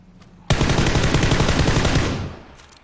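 Sustained automatic gunfire in a competitive online shooter match, a dense rapid burst starting abruptly and rattling loudly for about two seconds before tapering off.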